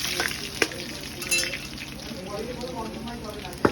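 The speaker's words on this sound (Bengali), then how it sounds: "প্রথমে চলে গেল দেখো তেলের উপরে লঙ্কা লঙ্কা প্লাস জিরে প্লাস তেজপাতা" Chilli, cumin and bay leaves sizzle in hot oil in a pan, a steady crackling hiss with a few sharper pops, heard close and under a strong musical drone.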